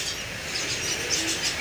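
High, thin chirps from a sooty-headed bulbul chick repeat in quick succession, close and fairly loud, with no talking.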